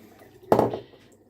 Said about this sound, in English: Pour this out in the sink.